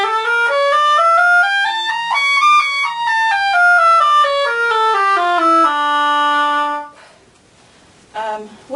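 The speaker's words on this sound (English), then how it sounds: "Your D harmonic minor sounds like this." An oboe plays a D harmonic minor scale, clear single notes stepping up and back down at a steady pace, then a long held low note, close and solo, followed by a short pause and some faint noise.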